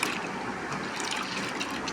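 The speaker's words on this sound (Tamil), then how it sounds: "நம்ம இப்படி தான் இந்த உளுந்தை நல்லா வாஷ் பண்ணுவோம்." Urad dal lentils being washed by hand in water, a soft, continuous sloshing and trickling close by, quiet with no talk.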